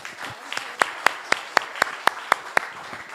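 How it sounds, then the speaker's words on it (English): Sharp, evenly spaced claps ring out about four per second, a small scattered group clapping in a steady rhythm. "another round of applause for Christine"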